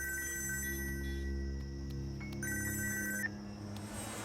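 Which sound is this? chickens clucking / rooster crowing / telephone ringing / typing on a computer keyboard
telephone ringing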